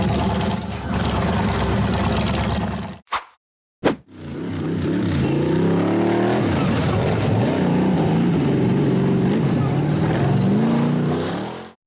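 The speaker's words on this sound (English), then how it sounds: "The red buggy accelerated over a small dirt ridge and then charged straight up a steep dirt slope." A red off-road buggy's engine roars loudly as it accelerates over a dirt ridge and up a steep dirt slope, with a brief cutout early on before the revving resumes and holds, rising and falling, close and dominant.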